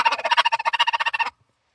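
A rapid, raspy burst of gobbling, roughly twenty quick pulses in just over a second, ending abruptly; it may be a hunter's gobble call imitating a wild turkey in the Idaho mountains.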